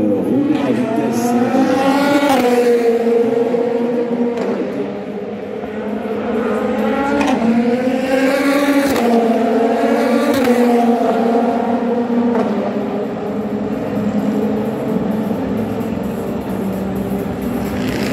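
A wildcard race car, number 23, running at speed during Le Mans 24 Hours free practice, its engine a steady high-pitched whine rising and falling through gear changes and passes, loud and continuous for the whole stretch.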